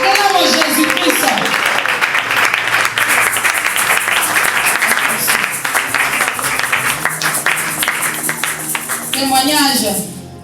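Loud, continuous applause from a church congregation acclaiming Jesus Christ, dense clapping and crowd noise sustained throughout with voices mixed in, tapering slightly near the end.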